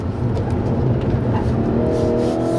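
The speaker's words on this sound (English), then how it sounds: "here we go in the 230i BMW, and we're off" A BMW 230i's four-cylinder engine revs hard and accelerates steadily, a loud continuous roar with rising pitch heard from inside the car.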